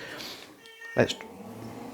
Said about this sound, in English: Cat there.